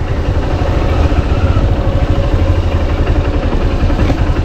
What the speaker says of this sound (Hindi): इधर ये मेरा फ्रेंड का बाइक देख रहा हूँ।